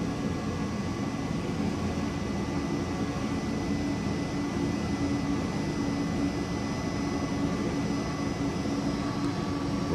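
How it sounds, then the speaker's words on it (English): A small electric blower motor runs steadily close by, a continuous whirring hum with a faint whine and no talking over it. "If you listen, you'll be able to hear the motor wind down."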